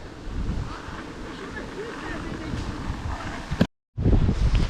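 Water rushes and churns steadily, mixed with heavy wind buffeting the microphone, and the sound cuts out briefly before returning.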